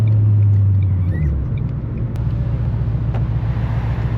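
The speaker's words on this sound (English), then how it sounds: "I will say this car has the best sounding exhaust out of all of my cars." A 1,000 horsepower car's exhaust rumbles loud and close while driving, a deep steady drone with a heavy low tone that shifts partway through as the engine note changes.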